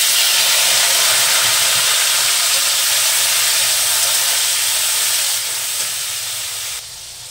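Chopped tomatoes dropped into hot oil already seasoned with white cumin seeds and bay leaves give off a loud, dense, steady hissing sizzle that eases slightly toward the end, with no voices.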